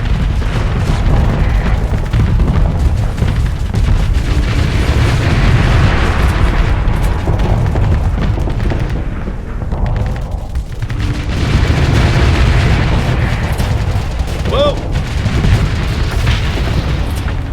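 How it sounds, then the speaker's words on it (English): Phase mines exploding in Starsector, heard as a loud, continuous run of deep booms and bursts that rumble on without pause. "they sent a whole bunch of phase mines at me"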